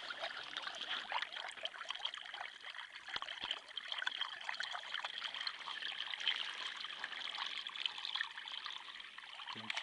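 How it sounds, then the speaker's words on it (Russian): Water from the Volga drains away in a steady, even trickle and gurgle, moderately close and continuous, with no talk over it. "Пробку открыли, вода уходит."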